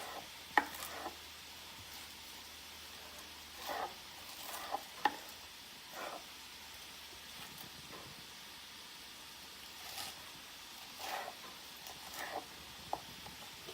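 Knife slicing spinach on a cutting board, scattered soft chopping taps in irregular bursts over a faint background hiss, fairly quiet and close.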